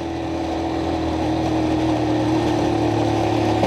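A motorcycle in first gear labours up a slope, its engine holding a steady, strained, buzzing drone close by for several seconds, with no talking.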